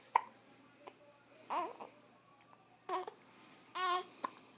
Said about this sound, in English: You got the hiccups, boo.